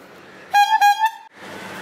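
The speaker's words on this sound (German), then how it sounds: "Ich habe jetzt diese Hupe an meinem Rad." A bicycle horn fitted to a touring bike on a coastal road near Mumbai sounds in two loud, tonal honks in quick succession, standing out clearly over low background traffic noise.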